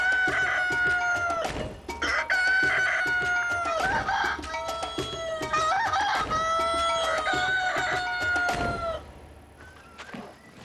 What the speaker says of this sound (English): I thought chickens crowed when the sun came up.